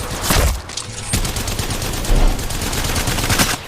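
Sustained, loud gunfire in the mobile game Apex Legends Mobile, dense rapid shots running throughout with no pauses.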